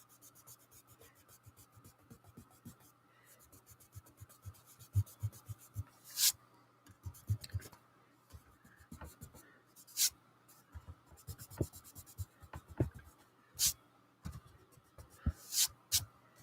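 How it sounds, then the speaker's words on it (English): Pencil or eraser work cleans up heavy graphite on an ink illustration, heard as quiet, close, intermittent scratchy strokes on paper with short pauses and a faint background hum. "I'm just going to kind of clean up some of this graphite"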